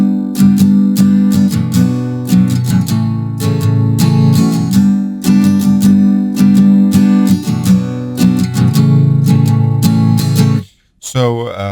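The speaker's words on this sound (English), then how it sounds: "that's a little bit more of an intricate down and up strumming pattern" Acoustic guitar plays a funky, intricate down-up strumming pattern, close and loud with syncopated chord stabs and short muted gaps, cutting off near the end before a brief slide.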